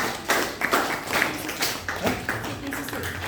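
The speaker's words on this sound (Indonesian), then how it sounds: "Tepuk tangan untuk" Classroom clapping during a guided teaching practice lesson: a few loose, uneven claps and taps from a small group, close and fairly loud, with some voices mixed in.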